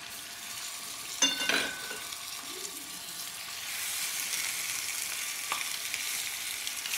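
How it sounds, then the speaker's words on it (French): Fish fries in oil, sizzling and crackling steadily throughout, with a couple of brief clatters early on and the frying growing a little brighter partway through. "je laisse dans la friture 5 minutes sur chaque côté"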